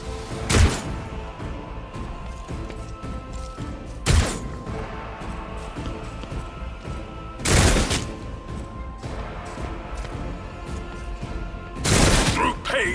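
Sharpshooters fire guns in the Warhammer 40k game Rogue Trader: four loud, sharp shots or short volleys land at spaced intervals over a steady ambient game background.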